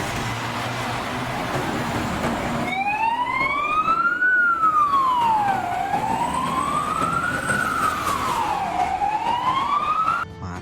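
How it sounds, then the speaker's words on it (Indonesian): A toy fire truck's electronic siren wails up and down in slow repeated sweeps, loud and close, running steadily for about eight seconds after a quieter start with no voices over it. "Ternyata ada mobil pemadam kebakaran lagi ya teman-teman."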